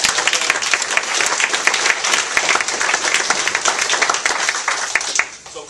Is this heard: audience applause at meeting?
yes